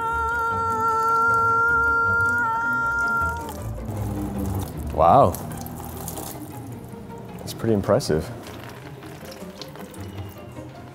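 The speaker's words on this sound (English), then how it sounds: "we have a series of spill tests today. The first being water" Water pours steadily over waterproof Converse sneakers in a spill test, a continuous splashing rush for about three seconds before stopping, followed by a person speaking.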